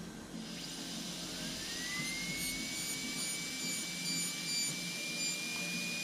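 A high-speed rotary tool with a ball burr textures metal, giving a steady, loud high-pitched whine whose pitch slides upward and then holds, heard alone close by.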